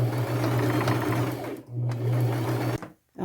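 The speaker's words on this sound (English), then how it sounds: "Okay, I'm done sewing." Stitches a fabric bag made from upcycled materials on a sewing machine, a loud steady mechanical hum in two long runs broken by short pauses, close up and with no talking.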